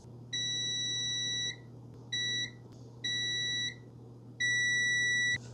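A multimeter set to continuity sounds off while the power port of a Game Boy is probed. Four steady electronic beeps of varying length ring close and clear over a low background hum.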